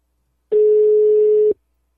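A single steady telephone call tone sounds for about one second, loud and clean, starting and stopping abruptly with silence on both sides.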